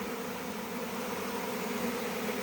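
A swarm of bees flies around a hive outdoors, making a faint, steady, even hum with no voices.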